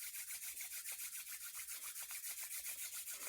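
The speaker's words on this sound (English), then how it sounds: "So I want you to rub your hands together really quick." Palms rubbed briskly together, a soft, close, steady swishing friction with a quick regular back-and-forth rhythm and no talking.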